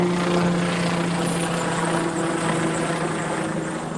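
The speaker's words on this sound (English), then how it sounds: "That's a helicopter." A helicopter passes overhead, its steady rotor drone with strong low harmonic tones running loud and continuous throughout, no voices.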